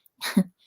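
A single short sneeze bursts out close by, followed by brief quiet.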